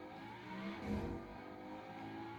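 Car driving in the video game Fortnite, a faint engine hum that swells briefly as it revs, then settles into a steady drone.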